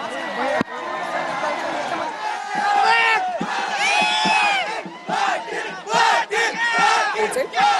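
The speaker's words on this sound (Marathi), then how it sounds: "मराठा आंदोलकांनी या ठिकाणी जल्लोष करण्यास सुरुवात केली आहे" Maratha protesters cheer and celebrate in a loud, dense crowd, with many voices chanting and shouting in repeated surging bursts close by and one sharp knock near the start.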